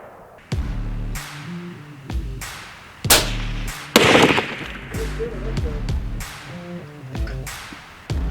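Sharp rifle reports ring out at intervals for long-range gel testing with Hammer Bullets at 300 yards, each crack loud and abrupt with a short decaying tail, several spaced shots alongside faint low tonal background sounds.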